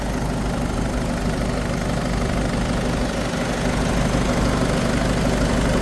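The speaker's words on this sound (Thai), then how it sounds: "ฟังเสียงเครื่องยนต์ครับ" A 2014 Isuzu D-Max pickup truck engine idles steadily, with a low continuous rumble and faint mechanical ticking that stays even throughout.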